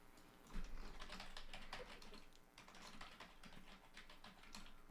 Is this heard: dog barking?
no